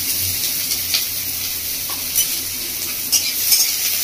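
Chopped onion, ginger and garlic fry in hot oil, giving a steady sizzle while a utensil stirs through them with a few scraping clicks.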